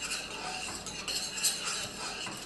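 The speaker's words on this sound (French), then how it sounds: "On mélange un peu." Fruits cooking in wine in a pot are stirred with a utensil, giving a continuous soft scraping and clinking with a faint bubbling simmer underneath and no voice.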